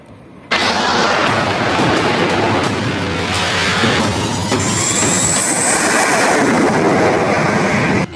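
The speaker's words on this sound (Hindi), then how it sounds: "देश का सबसे खतरनाक फाइटर प्लेन सुखोई 30 MKI पहली बार किसी हाईवे पर उतरा।" A Sukhoi 30 MKI fighter jet lands on an expressway, its loud, sustained engine roar and rumble filling the scene continuously without any talking.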